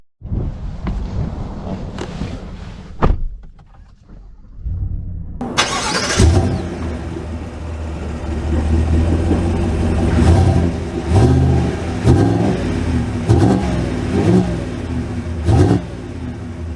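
A 2023 Chevy Tahoe RST Performance Edition engine cranks and fires with a loud surge after a few seconds of low noise, then settles into a strong rumbling run with repeated throttle swells as it pulls away, close and without talk.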